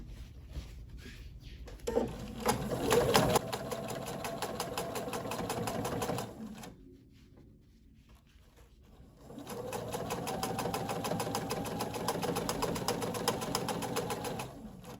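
A sewing machine stitches binding onto a small quilted glass case, running in a steady, close whirring stream, stopping for a few seconds of quiet, then starting up again for a long, even run.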